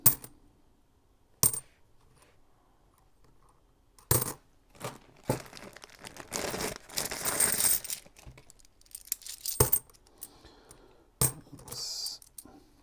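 Australian fifty cent coins being handled: sharp metallic clinks and drops in scattered bursts, separated by quiet gaps, with some shuffling and sliding between them, close and fairly loud, no speech.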